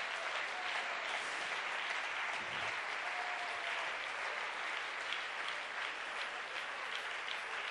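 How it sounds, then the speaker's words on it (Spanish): Steady applause from a church congregation during a sermon, a dense continuous clapping that fills the whole stretch at even strength, with no speech over it. "dale un aplauso al Señor en esta hora"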